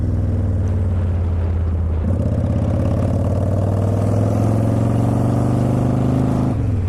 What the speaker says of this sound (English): These Vance & Hines pipes, they got some sound to them, and I mean they're pretty loud.